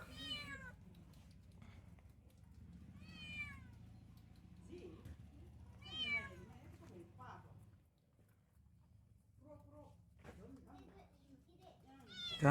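An abandoned kitten meows repeatedly up close, with about five or six distinct rising and falling cries spaced a few seconds apart over a low background hum.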